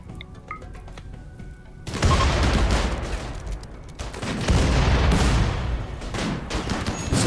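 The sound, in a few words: gunfire in RimWorld video game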